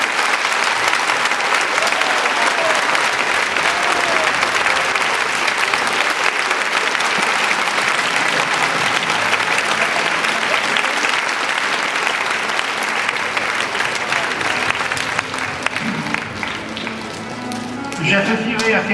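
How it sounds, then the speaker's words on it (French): Sustained, dense applause from an audience at an anniversary ceremony honouring two professors, loud and steady for most of the stretch before easing slightly near the end, with some voices mixed in. "les professeurs Tang Nguyen et Edmond Petit, je demande pour eux un tonnerre d'applaudissements"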